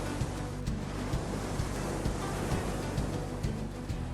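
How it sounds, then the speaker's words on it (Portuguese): Sea waves crash against rocks on the Cornwall coast of the open Atlantic, a continuous dense roar of surf with wind rushing across the microphone, steady and loud throughout with no voices. "Ondas imprevisíveis colidem contra as pedras enquanto o vento atravessa campos verdes"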